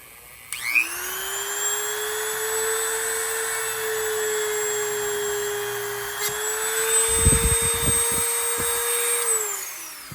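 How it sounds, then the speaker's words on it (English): A Dremel rotary tool drills into a Scrabble tile with a steady high-pitched whine that holds for about nine seconds, dipping briefly midway, then winds down at the end. "I just use the Dremel to kind of burrow just a little bit of a hole"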